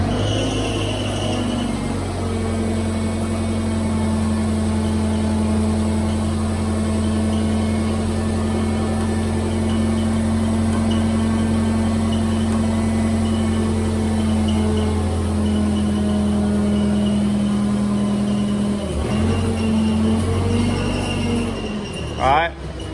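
A lifted mud truck's engine holds a steady, loud idle-to-rev drone for about twenty seconds, dipping briefly near the end, with no talk over it.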